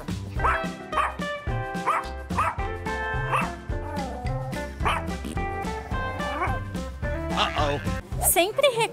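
A dog gives repeated yapping barks and yips in quick bursts, mixed with people talking and musical tones throughout.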